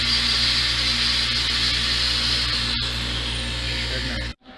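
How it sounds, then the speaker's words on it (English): Steady whirring of a rotary power tool polishing the bowstring notch of a crossbow lock, a constant close hum with faint grinding, ending in a brief cutoff. "Some polishing right in there."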